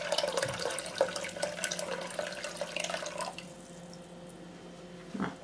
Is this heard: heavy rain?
no